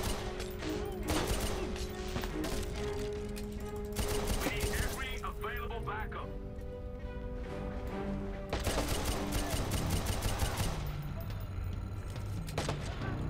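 Rapid gunfire from Watch Dogs, bursts of sharp shots in quick sequence around a motel, layered with game music and effects, faint overall; a voice talks through it.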